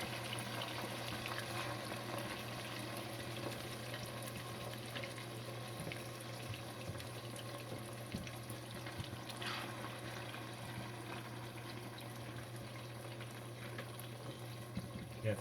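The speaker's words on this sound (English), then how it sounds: "we're gonna put our okra. Fried okra. Get this stuff fried up real good." Okra frying in sausage grease in a pot for gumbo, a steady faint sizzle and bubbling hiss running continuously at low level with a constant background hum.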